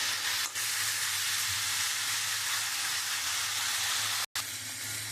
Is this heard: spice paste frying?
yes